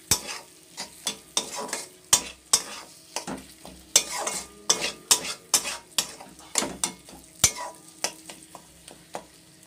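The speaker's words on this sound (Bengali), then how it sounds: "ভালো করে সব মিশিয়ে নাড়াচাড়া করে নেব" Loitta fish (Bombay duck) is stirred with meat masala in a pan, giving a steady run of spatula scrapes and clinks over a soft sizzle with no talking.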